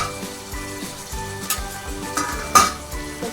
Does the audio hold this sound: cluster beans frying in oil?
yes